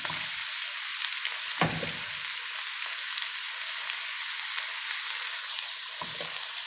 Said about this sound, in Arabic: كده يا حبايبي معايا البصله اصفرت معايا بالطريقه اللي احنا شايفينها دي. يا دوب انزل عليها السبانخ.